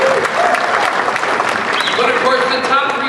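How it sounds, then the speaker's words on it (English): A conference audience at the 2014 MAIN Event in Detroit claps for the Ford team behind the F-Series truck. The applause is loud, continuous and fills the room, and a speaker's voice carries over it throughout. "you can clap."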